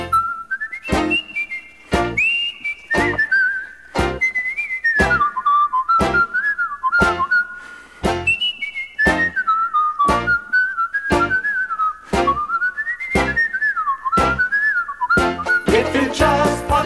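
A person whistles a bright, bouncy tune in clear sustained notes that glide up and down between short rhythmic musical accompaniment hits, loud and close.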